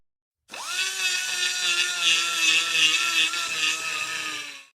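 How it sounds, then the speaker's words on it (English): Handheld grinder cutting into an aluminum speedometer drive part for a Suzuki SV650, one sustained high-pitched whining grind that starts abruptly and holds steady at close range for several seconds. "we're going to just go ahead and hit it with my grinder."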